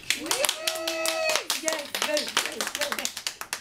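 Scattered hand claps from a small group at a nephrology and rheumatology staff huddle, sharp individual claps mingled with overlapping talk and a sung or drawn-out voice.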